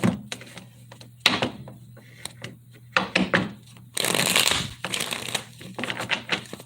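Tarot cards being shuffled by hand in several short bursts of riffling and slapping, close up and separated by brief quiet pauses.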